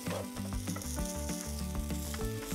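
Food sizzles loudly on a hot plate as it is stirred, with scraping strokes over a continuous close crackle and background music.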